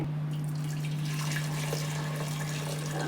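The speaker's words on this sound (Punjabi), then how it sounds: "ਜਿਹੜਾ ਪਾਣੀ ਆਪਣੇ ਕੋਲੇ ਬਚਿਆ ਸੀ ਆਪਾਂ ਨੇ ਉਹ ਵੀ ਪਾ ਦਿੱਤਾ ਹੈ" Leftover water is poured into a pot of saag cooking on the stove, making a soft, continuous watery hiss over a steady low hum, quiet and without talk.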